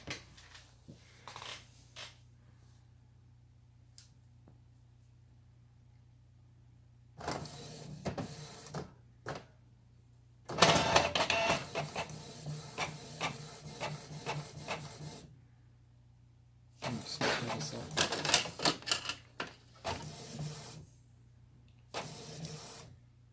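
A Canon Pixma G3200 inkjet printer prints a test page in bursts, with mechanical whirring, rubbing and rasping passes separated by quieter pauses, fairly close.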